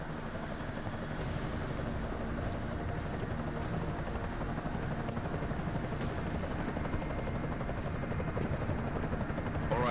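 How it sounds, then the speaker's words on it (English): An enemy helicopter in the video game Deus Ex produces a continuous, loud rotor drone with a dense rumbling wash that holds unbroken throughout. "Enemy helo sighted."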